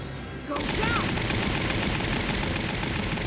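Sustained enemy rifle and machine-gun fire in the tactical war game Valkyria Chronicles at Barious Ruins, starting abruptly after a half-second and continuing as a loud, dense, unbroken barrage.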